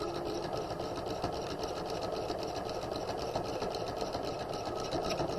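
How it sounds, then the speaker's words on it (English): A sewing machine stitches steadily across a folded fabric hem, its motor a continuous close, even whir with a fine rapid needle patter running the whole time. "We're going to stitch all the way across our fabric."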